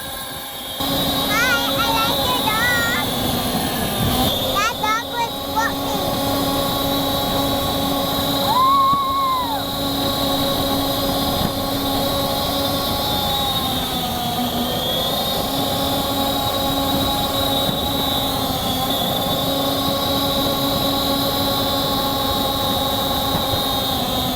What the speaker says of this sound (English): Those metal gears are incredibly loud.